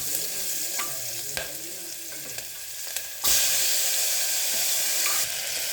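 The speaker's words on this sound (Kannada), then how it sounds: "ಸೊ ಗೈಸ್, ಇದು ಚೆನ್ನಾಗಿ ಫ್ರೈ ಆಗಿದೆ." Onion and tomato frying in a pan for sambar, a steady close sizzle with occasional stirring clicks that suddenly swells into a louder, hissing burst partway through and then holds, no one talking.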